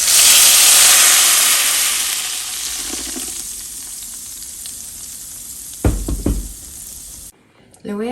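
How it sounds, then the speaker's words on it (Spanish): A blended sauce poured into hot oil in a clay pot over a low flame gives a loud, broad sizzle that slowly fades, followed by a few knocks and scrapes near the end. "Aquí ya tenemos una cazuela con aceite, con la flama bajita y le vamos a agregar lo que licuamos."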